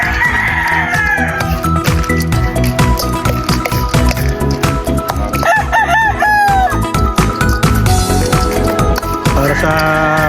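Backyard chickens and roosters make a busy, loud mix of repeated crowing, clucking and squawks, close by and continuous, with a little faint talk underneath.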